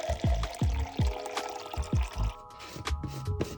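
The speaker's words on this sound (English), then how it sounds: "I'll pour some water into this shaker bottle" Water pours into a plastic shaker bottle in uneven splashing bursts with gurgles and small drips, fairly close and quiet.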